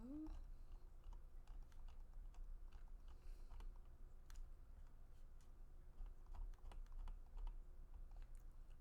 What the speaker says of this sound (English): So I'm typing Frank and Sons collectible show.